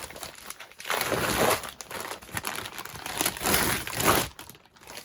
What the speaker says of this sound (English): I'm going to go ahead and rip this open.